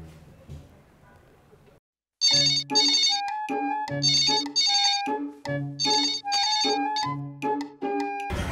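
A phone ringtone plays loudly after a brief quiet moment, a repeating melodic ring pattern sounding several times in a row, close and clear after some faint background noise at the start.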